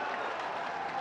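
Crowd applause at a public meeting with Prime Minister Modi in Odisha, a dense, steady wash of clapping heard fairly distant and even for a brief moment.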